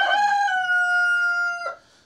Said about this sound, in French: Avec mon coq qui chante.